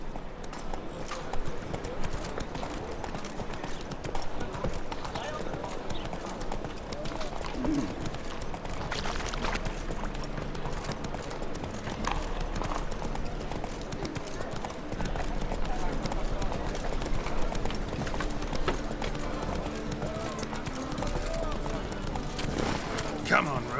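Horse hooves clip-clop at a steady gallop across the terrain in The Witcher 3, a continuous rhythmic beat that runs beneath the game's music and a voice speaking to the horse.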